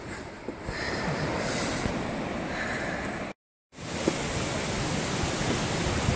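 Rocky Falls waterfall on the West Coast Trail roars as a steady, loud broadband rush of falling water, close by and continuous, with a brief dropout midway before the torrent resumes.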